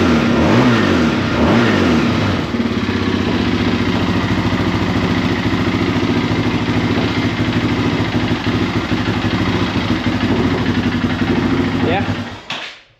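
A 2001 Yamaha Raptor 660R ATV engine revs hard and holds high, buzzing loudly up close before cutting off abruptly near the end.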